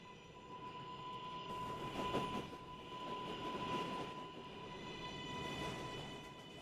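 PTA number 7 local train running on rails, a steady close rumble of wheels with a faint tonal whine and gentle swells in intensity, no voices.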